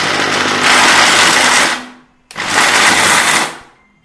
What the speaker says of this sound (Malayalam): നമുക്ക് ഈ നട്ട്സ് എല്ലാം കൂടെ ജസ്റ്റ് ഒന്ന് ക്രഷ് ചെയ്തെടുക്കാം.